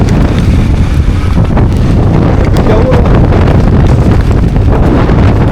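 Strong wind buffets the microphone outdoors on a road trip in Spain, a constant, heavy low rumble lasting throughout, with a voice speaking over it.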